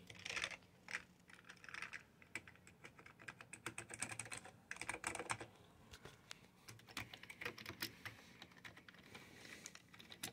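Rapid typing on an XD6600 computer keyboard, a close, dense run of clicky keystrokes in bursts with brief pauses, no voices.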